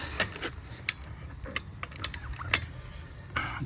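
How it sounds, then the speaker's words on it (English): A torque wrench ratchets while tightening wheel bearing bolts to 80 foot-pounds on a 2009-2015 Toyota Venza, giving a series of quick, fairly faint metallic clicks at an irregular pace over a low background hum. "Now I'm gonna torque them 80 foot-pound"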